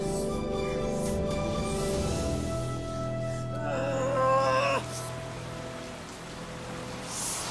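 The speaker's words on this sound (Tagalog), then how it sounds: "Ang lakas ng ulan." Heavy rain pours in a steady, dense hiss throughout, with sustained musical tones layered over it and no speech.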